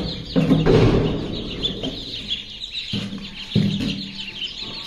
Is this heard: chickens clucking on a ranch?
yes